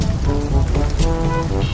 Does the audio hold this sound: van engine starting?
no